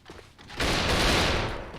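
Automatic gunfire rips out in the online shooter Alliance of Valiant Arms during a competitive match, a loud sustained burst after a brief quieter moment, dense and close with no voices over it.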